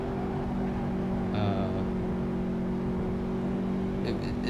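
A steady, droning race car engine hums continuously at an even pitch, with a brief higher whine partway through and no voices.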